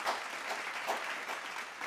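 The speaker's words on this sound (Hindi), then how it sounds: "पूरे जोश और जज्बे के साथ जोरदार तालियों से इनका स्वागत करिए दोस्तों" Applause welcoming an honoree at a virtual prize and achievement celebration, a short burst of dense clapping heard close and steady throughout.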